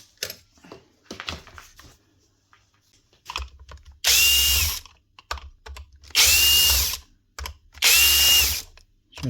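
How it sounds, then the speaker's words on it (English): A cordless drill whirs in three loud, steady bursts a couple of seconds apart while backing out screws on a Bosch hammer, with quieter clicks and handling noises before and between them. "just quickly take them out with the drill"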